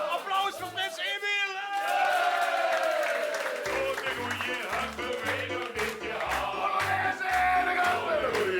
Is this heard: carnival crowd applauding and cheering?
yes